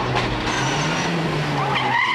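A Mark I Ford Escort rally car with clutch problems snarls close by, its engine note wavering under loud tyre scrabble and skidding noise. The pitch climbs sharply near the end.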